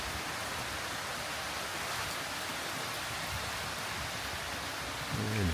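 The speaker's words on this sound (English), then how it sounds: "the rain is picking up" Heavy typhoon rain from Typhoon Ampil pouring steadily in a garden, a dense continuous hiss close by with no letup.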